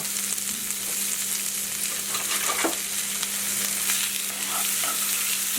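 Onions frying in butter in a pan give a steady, close sizzle that holds for several seconds, with a low hum underneath and a few soft stirring clicks.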